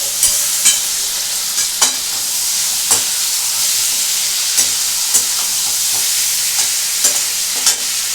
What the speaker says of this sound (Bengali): এবার এটা দিয়ে ভালো করে কষবো।